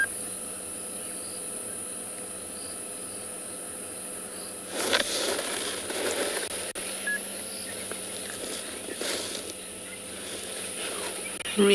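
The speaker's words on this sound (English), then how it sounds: "Can you hear cicadas?" Cicadas keep up a faint, steady, high-pitched drone in the bush at sunset on a safari game drive, with brief louder rustles and a few short radio beeps over the insect hum.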